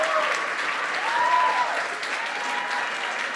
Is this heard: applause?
yes